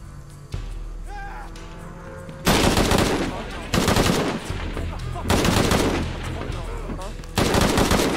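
Loud bursts of rapid gunfire in Shadow of the Tomb Raider, coming in several long volleys separated by brief pauses, with faint game sounds and a voice in the gaps.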